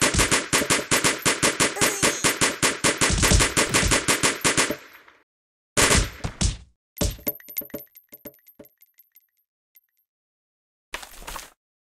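Gunfire from a big gun in the mobile game Kick The Buddy, with fast rapid-fire bursts for about five seconds, then shorter separated volleys and single shots after pauses, loud and close, with no talking.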